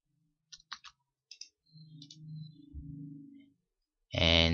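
Several sharp mouse clicks sound close in quick pairs at a computer desk, followed by a low hum and then a loud burst of noise at the end.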